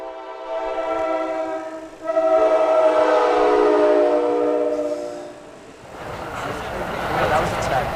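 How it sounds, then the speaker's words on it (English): A passing train sounds a long, loud, multi-tone horn beside a high school varsity boys soccer game. The blast holds for several seconds over a low rumble and fades into field noise and commentary. "as the train comes by"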